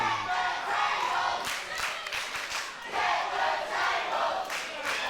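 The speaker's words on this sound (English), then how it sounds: "The crowd want tables, that's for sure." A wrestling crowd at a WAW Fightmare event chants and roars in rhythmic swells, a loud, echoing mass of voices rising and falling across several seconds.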